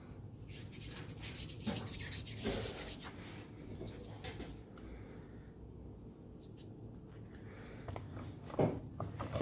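Hands roll out epoxy putty for a whitetail deer eye set, making a soft, continuous close rubbing and scuffing with occasional light taps, steady and fairly quiet throughout with no talk.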